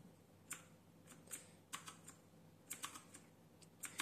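Key presses on a Royal Kludge RK61 60% mechanical keyboard, a dozen or so crisp, close clicks in irregular short bursts, quiet and alone with no talking.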